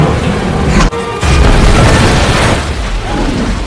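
A grenade blast in the crocodile film Primeval, a loud, sustained booming roar with a brief dropout before the rumble surges back and slowly rolls on.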